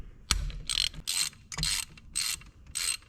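Hand ratchet loosening a bolt on an Audi B7 RS4 engine, several short bursts of rapid clicking separated by pauses, with a couple of sharp metallic knocks, close and fairly quiet.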